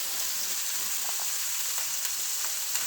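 Regular beef patties fry in a skillet with a steady, fine sizzle and a few faint pops and crackles, close up with no voices.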